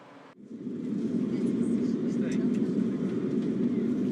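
A virtual reality flight simulation plays an airplane takeoff: a steady, loud jet-engine roar swells up after a brief quiet start and holds with a broad rumble.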